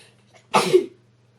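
A single sharp, breathy sneeze bursts out after a faint intake of breath, loud and close, then silence.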